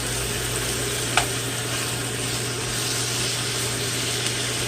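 Food sizzling steadily in a hot pan while it is stirred and moved around, a dense continuous hiss with a faint hum underneath and one brief click; no talking.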